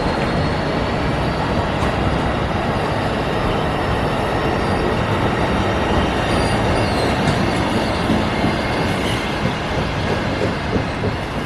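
Steady, loud rumble of an Amtrak Cascades passenger train with Horizon cars rolling along the tracks between Vancouver and Seattle, with continuous wheel noise and faint high squeals throughout.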